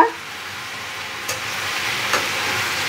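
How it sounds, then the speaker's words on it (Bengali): Steady, close sizzling of potato, beetroot, tomato and peas frying in hot oil, a continuous hiss with a couple of faint clicks. "আলু, বিট, টমেটো, কড়াইশুঁটি সব তেলের মধ্যে দিয়ে সুন্দর ভাজা ভাজা হয়ে এসেছে"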